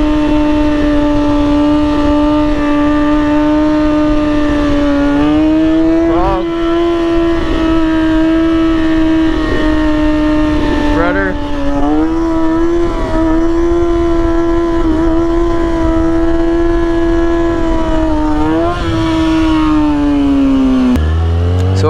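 A motorcycle engine holds a steady, loud idle-to-mid rev during no-brake wheelie practice, with small throttle swells and dips and a brief higher rev near the end, alone without talk.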